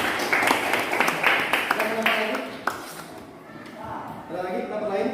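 Students in a classroom clap briefly for a classmate, scattered close hand claps that thin out after a few seconds, followed by children's voices talking.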